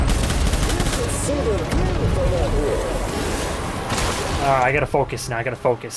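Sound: assault rifle gunfire in Death Stranding video game

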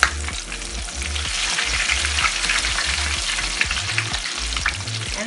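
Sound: chicken pieces frying in hot oil in a basket

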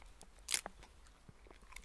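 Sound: rabbit chewing a leaf

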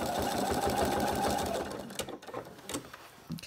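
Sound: sewing machine doing free-machine embroidery stitching

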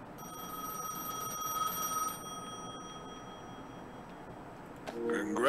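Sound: telephone ringing in the video game Gas Station Simulator

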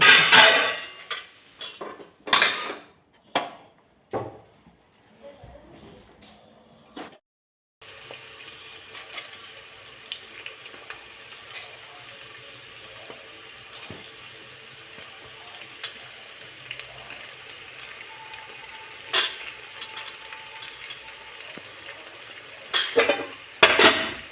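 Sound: cooking masala rice (misal masale bhat) in pots

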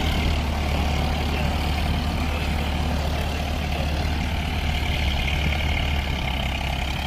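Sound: Farmtrac 60 and John Deere tractor engines running

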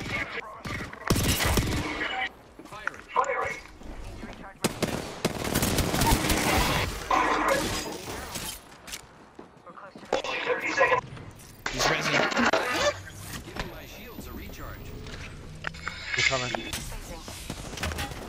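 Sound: gunfire from the video game Apex Legends

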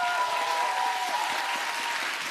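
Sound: audience applause

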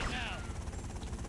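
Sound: helicopter arriving in GTA Vice City video game

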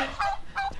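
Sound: angry turkey

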